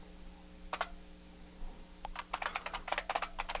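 Keys clack on a computer keyboard as a Linux mv command is typed: a single pair of quick strokes, a pause, then a faster run of soft, close keystrokes over a faint steady hum.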